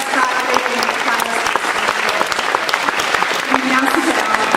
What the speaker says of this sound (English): Round of applause for the best graduating class.